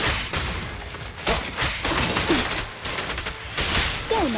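Dense, loud gunfire in the video game Zenless Zone Zero, a continuous volley of sharp shots and thumps with brief voiced game lines mixed in.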